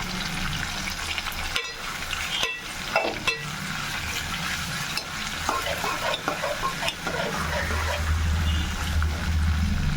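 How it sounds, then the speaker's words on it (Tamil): Onions fry in oil for chicken Chettinad gravy, a close, steady sizzle broken by sharp clattering stirs, growing thicker and louder toward the end. "வெங்காயம் வந்து நல்லா எண்ணெயிலே வதங்கணும்"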